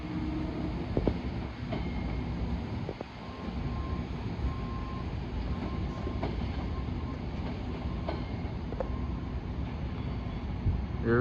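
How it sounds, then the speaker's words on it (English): A train rolls past steadily, heard from a parking garage in White Plains, New York, with continuous rumbling, clattering wheels and faint metallic squeals, heard from nearby for the whole stretch. "I think I hear another train coming."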